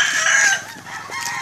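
A bird calls once nearby, a short, bright, wavering cry followed by softer chatter. The call sounds more like a rooster or fowl than a pigeon coo.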